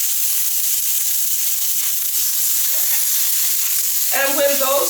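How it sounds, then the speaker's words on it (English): Chicken pieces sear in a hot pan with a loud, steady sizzle and hiss that continues throughout. A brighter burst of crackling rises near the end. "So we're going to brown this chicken on both sides."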